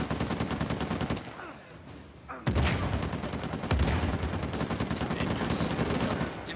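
Rapid bursts of gunfire from burst-fire and scoped rifles in the Uncharted 4 video game, dense overlapping shots and booms crackling steadily with a brief lull midway, loud and close throughout.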